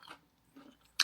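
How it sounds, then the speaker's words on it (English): A person chewing food over lunch, with a couple of soft, close mouth sounds followed by a sharp, brief crunchy bite at the end, quiet and isolated. "A lot of people hate to hear people chew."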